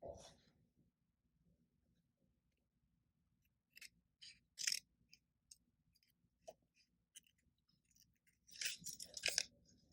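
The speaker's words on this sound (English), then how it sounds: "I almost grabbed my good scissors again to cut this paper." Scissors snipping through paper for stitchless foundation paper piecing, heard as scattered crisp cuts in short bursts over a quiet background, with a denser flurry of snips near the end.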